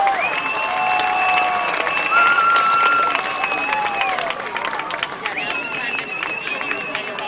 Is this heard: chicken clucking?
no